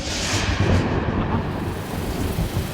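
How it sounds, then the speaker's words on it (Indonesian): A sudden downpour of heavy rain roars steadily with deep rolling thunder underneath, loud and dense throughout. "kok tiba-tiba hujan deras banget?"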